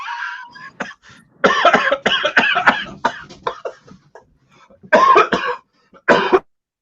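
A man coughs repeatedly in a series of close, loud, dry bursts separated by short pauses, with no talking in between.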